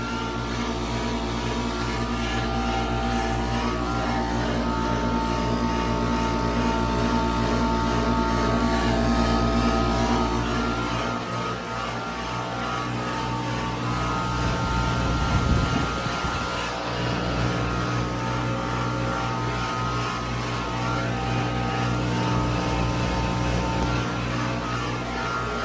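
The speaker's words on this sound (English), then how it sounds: "This Daikin is rattling like crazy." A 2008 Daikin heat pump running in cool mode drones with a steady tonal hum and buzzing rattle, nearby and continuous, with the pitch shifting partway through and no talking.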